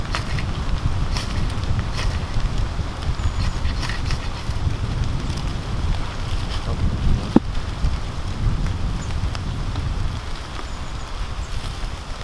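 Wind and heavy rain batter an outdoor camping spot, a dense, steady roar of rain with gusting wind and microphone buffeting, constant and close, with one sharp click partway through.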